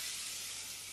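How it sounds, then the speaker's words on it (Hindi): Mustard seeds, curry leaves and broken dried red chillies crackle in hot oil for a tadka, a soft, steady sizzling hiss heard alone for a brief moment. "और फिर इसके बाद हम इसमें डालेंगे कड़ी पत्ता, जिसको हम 10 से 15 सेकंड चटकने देंगे।"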